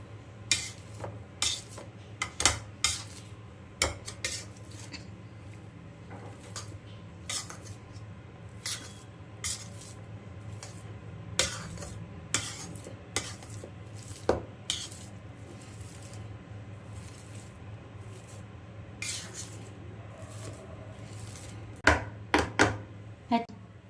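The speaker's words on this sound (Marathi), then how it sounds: "ह्या मॅशरने बारीक करून घेऊयात आपण म्हणजे पटकन बारीक होईल" Vegetables being mashed with a hand masher in a home kitchen, a series of sharp clattering knocks of metal against a pot at irregular intervals, fairly close, over a low steady hum with occasional faint speech.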